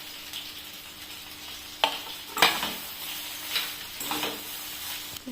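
A spatula stirs vegetarian fried rice with cashews and raisins in a frying pan, making several distinct scraping strokes over a soft, continuous sizzle, close and fairly quiet, with no talking.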